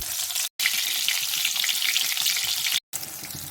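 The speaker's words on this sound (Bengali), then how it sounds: "নুন হলুদ মাখানো বেগুনগুলো দিচ্ছি এবারে ভেজে নেব" Eggplant slices coated in salt and turmeric sizzle steadily in hot oil in a home kitchen, a close, continuous frying hiss with two brief cuts of silence.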